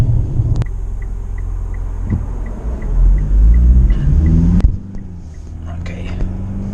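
Mitsubishi Outlander at full throttle, a loud steady engine drone rising in pitch with a heavy low rumble inside the cabin, a soft click or two and faint speech buried underneath.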